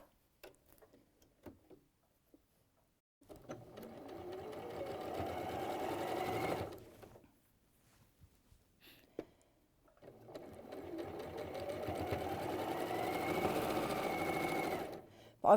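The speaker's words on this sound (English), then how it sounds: "So I'll just stitch those together." Sewing machine stitching pieces of fabric together for a Seminole sampler cushion, two long runs of rapid mechanical rattling separated by a quiet pause with faint clicks.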